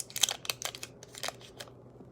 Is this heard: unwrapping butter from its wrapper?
yes